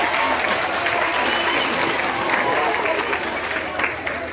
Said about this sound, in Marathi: तुमच्यासाठी टाळ्या